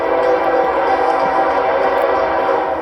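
A train passes near a creek, a loud, steady rumble and rolling clatter that holds at close range throughout with no break.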